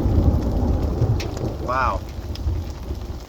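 Steady hail and rain pelt the ground during a Rocky Mountain thunderstorm, with low thunder rumbling beneath the constant patter, while a man briefly exclaims partway through.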